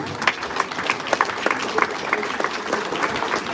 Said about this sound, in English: Everyone, please give him give them a big hand of applause.